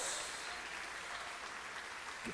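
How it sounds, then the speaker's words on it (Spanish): A church congregation applauding the Lord during a sermon, a steady dense wash of clapping from many hands, moderately distant and even in level, with no talk over it. "¿No merece un aplauso esto al Señor?"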